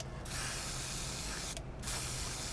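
A steady airbrush hiss sprays continuously, broken by two brief pauses before the spray resumes.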